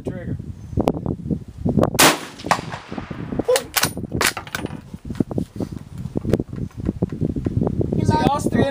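A 1907 Mauser pistol fires in a series of sharp, loud shots with irregular spacing, close by, while several people talk excitedly over and between the reports.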